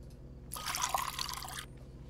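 Water pours into a cup in the horror video game Fears to Fathom: Woodbury Getaway, a steady splashing fill lasting about a second, close and moderately loud over a quiet low background hum.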